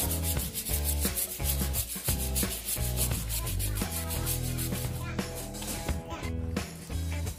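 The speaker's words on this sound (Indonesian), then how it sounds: "Jadi bagian jamur itu kita bisa hilangkan dengan cara disikat seperti ini" A brush scrubs fungus off the caudex of an adenium plant in quick, repeated rasping strokes, close and steady, with a voice speaking over the scrubbing.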